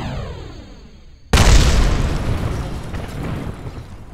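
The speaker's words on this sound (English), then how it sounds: "Exploded." A rocket explodes in Kerbal Space Program with a sudden loud boom at about 1.3 seconds, cutting off a rising engine whine and trailing into a long, rumbling, crackling roar.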